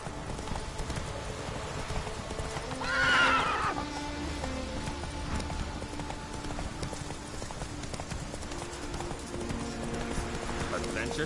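Roach, Geralt's horse in the video game Witcher 3, trots with a steady clip-clop of hooves and gives a brief whinny partway through, while a character speaks over the hoofbeats.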